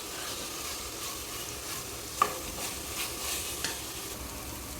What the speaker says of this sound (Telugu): ధనియా పౌడర్ కూడా వేసుకొని బాగా వేయించుకోవాలి